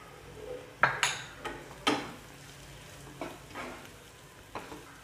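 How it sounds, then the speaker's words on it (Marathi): A spoon stirs crushed peanuts into hot tempering in a pan for a spicy Solapuri peanut curry, with a few sharp scrapes and clinks of metal on the pan over a faint, steady sizzle. "हे थोडंसं मिक्स करून घेऊया फोडणीमध्ये शेंगदाण्याचं कूट।"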